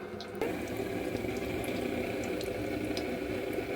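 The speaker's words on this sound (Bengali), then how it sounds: "দেখুন পকোড়াগুলো ভাজা হচ্ছে" Pakoras frying in hot oil give a steady, bubbling hiss that starts abruptly and holds at an even level, close and without pauses.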